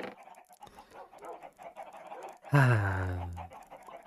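Voices chatter for a couple of seconds, then a loud, close clucking burst from a Minecraft chicken rings out for about a second.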